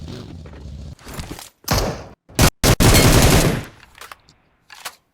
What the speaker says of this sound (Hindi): यहाँ पे भी देखिएगा बोट एक आएगा, ये देखिए उसने फायर दिया।